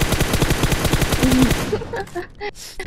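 Rapid automatic gunfire in PUBG Mobile rattles loudly in a fast burst for about a second and a half, then fades into scattered shots and game sounds.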